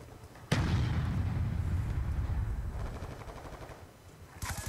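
Gunfire in Black Ops 2: a sudden loud report opens a sustained roar of shots and rumble that slowly fades, with another sharp burst at the very end.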